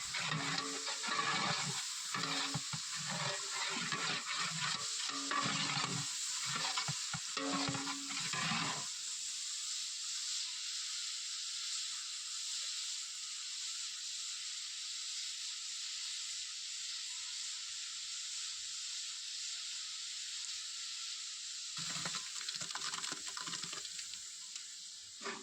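Ginger garlic paste sautés in a large biryani pot with a steady, moderately loud hiss of frying. Stirring noises clatter at the start and near the end, and a quieter stretch of sizzle runs in between.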